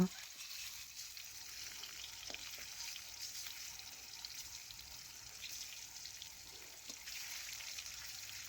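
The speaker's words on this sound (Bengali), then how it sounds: "এখন উল্টে নেব আরেক পাশ ভাজার জন্য" Eggs frying in a pan after being flipped, a soft steady sizzle with occasional light scrapes and clicks, fairly quiet throughout.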